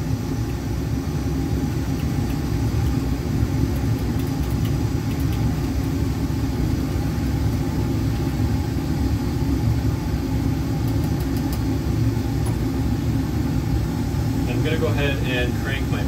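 A laboratory vacuum pump runs during filtration of freshly powdered dibenzalacetone from an aldol condensation, giving a steady, loud mechanical drone and hiss that holds unchanged throughout, with a faint bubbling flutter near the end.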